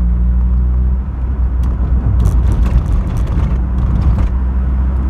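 A Rat-Cav car drives fast on a country road, its engine a loud, steady rumble close by with some road and wind noise throughout and no voices.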